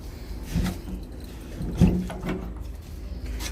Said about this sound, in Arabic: نقفل الباب ده